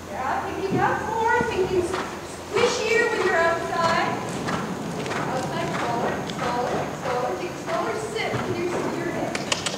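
A horse canters around a riding ring during a lesson on a 3ft jump course, its rhythmic hoofbeats running beneath an instructor talking throughout.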